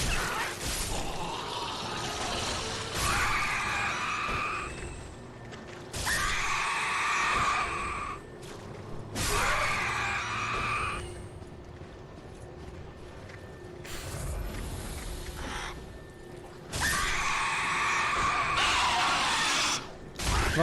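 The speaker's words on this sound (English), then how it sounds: "Lots of screeching and screaming." Screeching and screaming in the Corvian Village of the Dark Souls 3 video game, loud piercing shrieks in repeated bursts of a few seconds each, separated by quieter stretches of gameplay noise.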